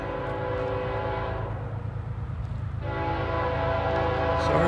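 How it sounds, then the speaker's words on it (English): A northbound Norfolk Southern freight train rumbles past with a loud, sustained horn blast over the heavy rolling roar of the cars, heard up close. "Comes a northbound NS."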